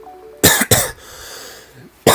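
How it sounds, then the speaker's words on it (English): Close, loud coughs directly into a microphone: two harsh bursts in quick succession, a quiet pause, then another cough at the end. "Sorry, I just coughed all over your microphone."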